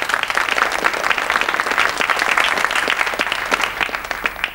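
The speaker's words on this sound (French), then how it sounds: "Et je vous demande d'applaudir d'ailleurs." A studio audience on a 1986 French television game show applauds a new contestant, loud and dense clapping that holds steady throughout and stays close.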